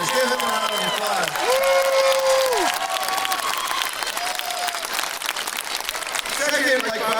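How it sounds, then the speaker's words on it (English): Crowd applause for a marching band announcer at an alumni band halftime show, dense steady clapping throughout with a few cheers, while a voice speaks over it. "Give him a round of applause."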